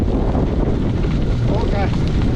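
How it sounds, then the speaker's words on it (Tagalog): Strong headwind roars across the microphone while riding a gravel bike on a route toward Palayan City, Nueva Ecija, a loud, constant low buffeting rumble with a faint voice buried underneath. "This is a headwind."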